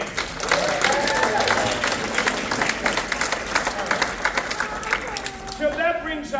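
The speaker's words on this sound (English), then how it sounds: "Round of applause for all the dancers." An audience applauds dancers at a Battle of Hanover memorial program in a library, with dense, sustained clapping from a crowd that thins toward the end while voices talk over it.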